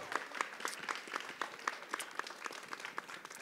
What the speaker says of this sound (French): on les applaudit, notre public aussi, tout le monde